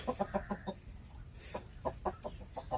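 Plymouth Barred Rock chickens in a breeding cage give soft, rhythmic clucks in short bursts, faint and close, with no talking.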